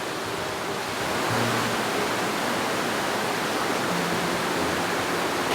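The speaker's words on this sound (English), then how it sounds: "What's your thoughts on the waterfall?" Lawson Falls waterfall in rainforest after heavy rain, a loud, steady, broadband roar of rushing water filling the whole clip without pause.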